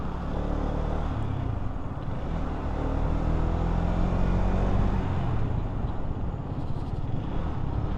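Hero Xtreme 250R motorcycle riding through Dhaka traffic, a steady loud engine drone with road and wind rumble throughout, no voices.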